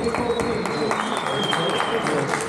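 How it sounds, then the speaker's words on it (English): An audience applauds at a graduation ceremony celebrating completion of a Talmud tractate, a steady patter of many hands clapping together at moderate loudness, with a faint voice underneath. "Everybody, round of applause."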